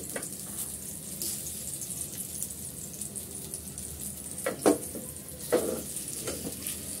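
Lachha paratha frying on low heat in a covered pan, turned over once one side is done: a steady soft sizzle with a few brief louder clatters of the pan and flipping near the end.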